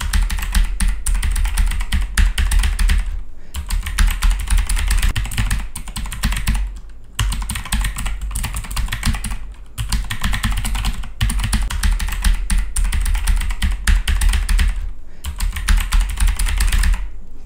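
Rapid typing on a computer keyboard captured by a PC microphone mounted on a Gaming Freak tripod stand, steady close clatter in bursts separated by brief pauses, no voice.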